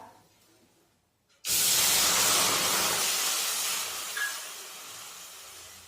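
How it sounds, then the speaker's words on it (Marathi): Water is poured into a hot kadhai just emptied of dry-roasted peanuts, bursting suddenly from near silence into a loud, rushing steam hiss that slowly fades over several seconds. "आता आपण कढईमध्ये पाणी टाकूया।"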